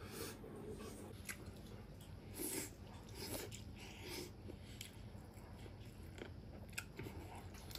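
Someone bites into and chews braised pork spare ribs, faint close-up crunching and gnawing in irregular bursts with occasional breaths, with no talking.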